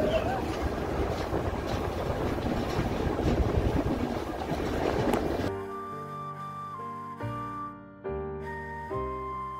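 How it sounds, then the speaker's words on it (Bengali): A passenger train running from Sealdah toward New Jalpaiguri rumbles steadily with broadband rolling noise and wind for about five seconds, then gives way to music that plays through to the end. "আস্তে আস্তে এগিয়ে চলেছি ট্রেনে।"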